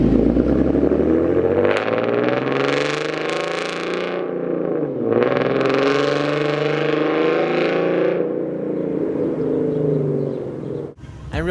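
A Ford Mustang engine fitted with ported intake manifolds drones and revs steadily, its tone swelling and easing in long surges over several seconds, loud and close, with no talking over it.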